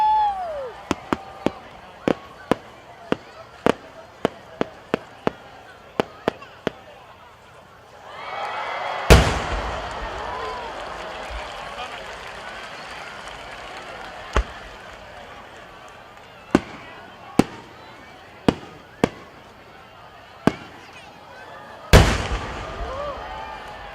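No. 10 warimono competition shells by Ina Kako Horiuchi Enka-ten burst at the 86th Omagari national fireworks competition in Japan. A quick run of sharp distant cracks leads into a heavy boom with a long crackling wash, then scattered loud reports.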